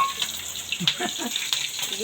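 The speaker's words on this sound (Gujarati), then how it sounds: "તો દોસ્તો જો મરસા તળે છે આ" Chillies deep-fry in hot oil during a Ganpati festival gathering, a continuous bubbling sizzle close by with faint voices in the background.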